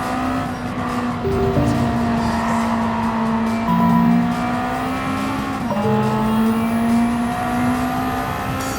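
A four-wheel-drive car racing hard in Gran Turismo, its engine droning loud and steady with shifting pitch, gear changes and a brief dip mid-run, tires squealing through the corners.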